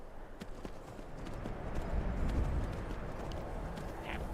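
Horse hooves clip-clop at a steady trot in a video game, a dense rhythmic patter of hoofbeats over low ambient rumble, moderately loud and close throughout.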